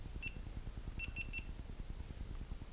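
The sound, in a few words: action camera beeping after voice command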